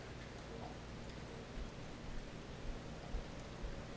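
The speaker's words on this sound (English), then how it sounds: "It's raining out. It just started raining." Rain that has just begun outside makes a soft, even hiss, with occasional low thumps of drops landing nearby.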